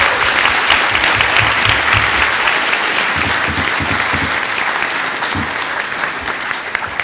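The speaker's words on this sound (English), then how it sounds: "Let's give our panel one more hand" A Comic-Con panel audience for Uncharted 3 gives loud, dense, sustained applause that fills the hall, gradually thinning slightly toward the end.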